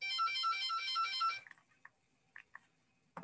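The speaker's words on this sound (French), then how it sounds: "il y a un téléphone qui sonne ici, je ne sais pas pourquoi." A telephone ringtone plays as a loud, repeating melodic trill for about a second and a half, then stops abruptly, leaving a quiet room with a few soft clicks and knocks.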